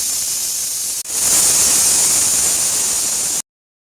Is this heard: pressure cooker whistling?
yes